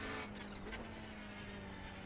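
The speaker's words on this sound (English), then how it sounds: "This is the Hyundai Elantra touring car." Hyundai Elantra touring car in iRacing at Brands Hatch, its engine a steady, fairly faint droning hum holding one pitch throughout, with no voices.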